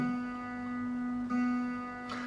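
A single plucked Stratocaster guitar string rings with a buzzing, sitar-like twang from an unevenly cut nut slot, sustaining steadily for a couple of seconds, with a faint knock near the end.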